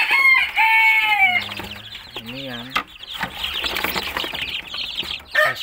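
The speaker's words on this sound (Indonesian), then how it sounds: "Suara-suara kokok ayam ini menenangkan hati sekali" Bangkok and kate chickens in a farm coop crowing and clucking, several birds calling in overlapping bursts close by, with someone briefly talking at the start.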